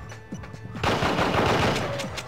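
Rapid bursts of gunfire from the PS2 video game Endgame, a few sparse shots followed by a loud, dense volley of repeated cracks, close and without speech.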